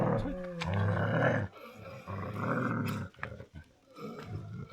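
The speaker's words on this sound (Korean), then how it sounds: "내 뒤에서 계속 으르렁 대면서 이렇게 따라오면서 내가 앞장서면 으르렁거려." An animal trailing close behind someone on a path in India growls in several low, rumbling bursts with short breaks between them, loud and near.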